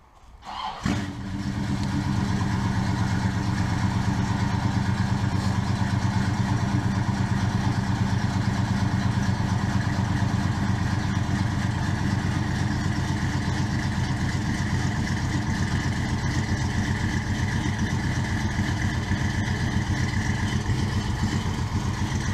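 A 1971 Dodge Coronet engine cold-starting with a brief crank, then catching into a loud, steady, rumbling idle that holds close and unbroken for about twenty seconds, with no voices.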